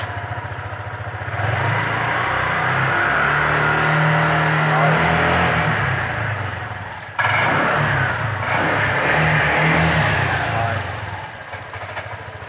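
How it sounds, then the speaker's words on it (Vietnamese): A 2018 Honda SH 150i ABS scooter engine idles, then revs up sharply twice, its exhaust roaring and rasping before settling back down. "nghe tiếng bô nè rồi nẹt bô lên chút xíu nghe cái tiếng này"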